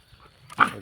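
Puppies at a rural home give one sharp, close bark or yip after a near-silent lead-in, with a faint whine trailing off afterward.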